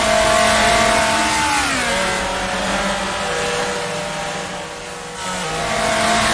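A 1966 Formula 2 car in Grand Prix Legends drones at high revs, the engine note dropping at a gear change, then holding a steady, close, loud tone before climbing again.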